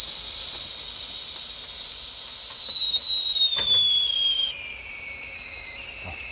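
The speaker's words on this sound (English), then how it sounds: "I'll be able to hear that one buzzing now." A stainless steel kettle whistling as water boils, a loud sustained high whistle that wavers and drops in pitch, with a hissing of steam underneath.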